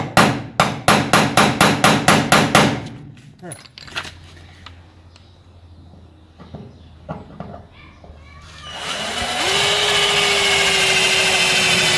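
A small hammer strikes about ten times in a quick, steady run, loud and close, while wiring a trailer, followed by scattered knocks and then a sustained mechanical whine.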